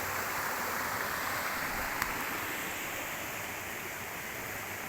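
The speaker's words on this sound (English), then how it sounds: "further upstream there seems to be another little set of stones creating the water to actually have to pass through quite fast" A river runs fast through a set of stones upstream, a steady, full rushing of water that stays constant and fairly close throughout, with no talk.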